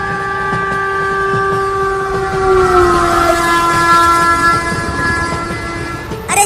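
A cartoon train sounds a long, loud horn, a sustained tone that dips slightly in pitch over a running rail rumble, with a sharp sound at the very end.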